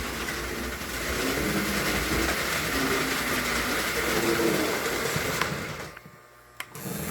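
A prewar American Flyer No. 570 Hudson model train, made in the USA around 1940–41, runs with a continuous whirring motor hum and rolling rattle on track, then abruptly drops to near silence with a couple of clicks before resuming.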